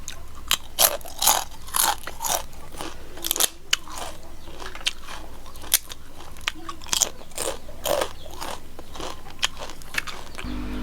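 Crunchy chewing of spicy papaya salad with raw rock crab, repeated close bites and crackling crunches in an uneven rhythm, with brief murmurs between.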